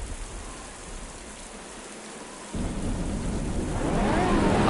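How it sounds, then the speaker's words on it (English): Steady hiss of rain from the Riptide GP: Renegade racing game, swelling midway into a heavier, louder downpour with a deep rumble of thunder underneath, no voices. "I love the rain effects as well."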